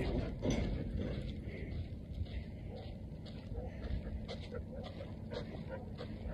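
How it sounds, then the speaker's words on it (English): A dog yips, whimpers and barks in short excited bursts over a muffled background, fairly close but not very loud. "Crazy dog."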